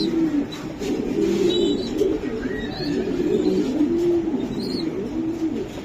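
Racing pigeons coo steadily and close by in low, rolling calls, with a few faint chirps from other birds in the background.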